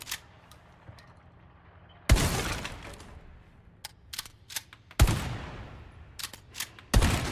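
A shotgun in Resident Evil 4 VR fires three loud, sharp blasts spaced a couple of seconds apart, each with a ringing tail. Small clicks and handling noises fall between the shots.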